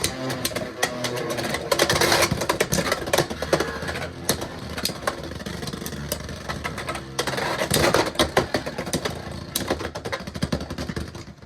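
Beyblade X tops, including Wizard Rod, are launched into a stadium and battle. A dense, continuous rattling whir with sharp clashing contacts runs throughout, swelling loudest in two bursts.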